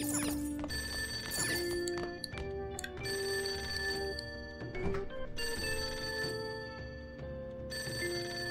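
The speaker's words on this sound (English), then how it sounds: "Payphone." A payphone rings in Persona 5, a repeated electronic ring in regular bursts with short gaps between them, heard fairly quietly throughout.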